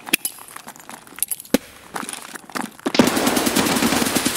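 Gunfire crackles in a video game, scattered sharp shots at first, then a sustained loud automatic burst with metallic clinks and ringing in the final stretch.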